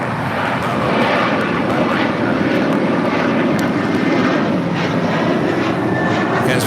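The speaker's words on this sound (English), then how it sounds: "Rolling down 25 right now is American Airlines flight 2837 heading to Charlotte in an A321." An American Airlines A321 rolls down runway 25 Right at LAX on its takeoff run, a loud continuous engine roar that holds steady and fills the scene without pause.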